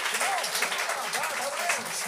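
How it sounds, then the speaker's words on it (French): An audience at a Gong Show comedy taping gives a brief round of applause, steady and moderately loud, with talking running over the clapping. "applaudissez"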